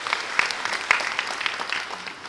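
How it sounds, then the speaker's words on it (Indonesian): An audience claps at a ceremonial education gathering, a short burst of scattered, moderately loud applause with a few sharper individual claps standing out. "Tepuk tangan untuk kita semua."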